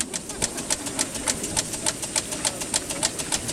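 A small steam launch's Pearl steam engine runs steadily, beating out a quick, regular train of light chuffs and clicks, about four per second, close by and without speech.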